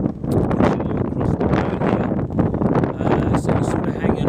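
Strong wind along the Nullarbor road in Australia, blowing in off the sea, buffets the microphone with continuous loud rumbling gusts for the whole few seconds.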